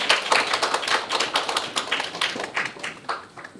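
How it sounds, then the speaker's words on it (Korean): An audience at a lecture on youth drug problems gives a pharmacist a big round of applause: many hands clapping in a steady, moderately loud patter that carries on for nearly four seconds with no talking. "김지연 약사님한테 큰 박수 한번 부탁드리겠습니다"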